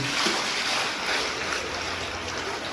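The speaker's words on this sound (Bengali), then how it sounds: "এক বালতি জল ঢালা ছিল আরেক বালতি ঢালছি" A bucket of water poured out during a rainy-season bath for pigeons, giving a continuous close, broad rushing splash that holds steady for the whole stretch.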